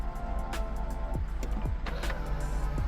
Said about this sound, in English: Near side mirror, these are electric and power folding.